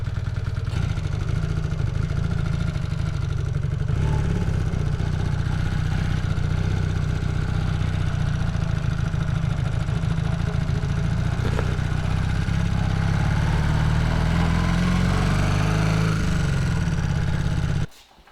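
A rebuilt Honda CB250 Super Dream motorcycle engine runs loud and close throughout, a steady low mid-pitched drone with faint clatter and wind rush while riding, cutting off abruptly at the very end.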